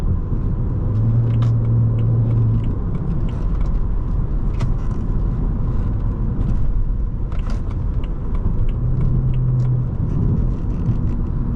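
A 2011 BMW 335i driving and taking a turn, with steady engine and road rumble throughout, a smooth continuous drone rising slightly in pitch at the start and again near the end.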